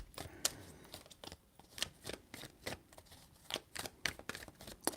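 A deck of tarot cards is shuffled by hand in quick, soft riffles and flicks, close and quiet, with short crisp bursts coming in an uneven rhythm and no voices.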